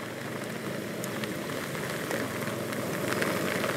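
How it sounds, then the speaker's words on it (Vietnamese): Heavy rain pours steadily during a thunderstorm in Saigon, a dense continuous hiss with scattered louder drops and a faint engine-like rumble beneath, no talking. "mưa như vậy là cũng rất lớn rồi đó"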